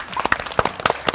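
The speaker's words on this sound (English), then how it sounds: "Let's clap for her." A small group claps for a young quiz winner at the close of a kids' quiz on Indian culture, giving a short, uneven patter of hand claps with a few sharp peaks over about a second.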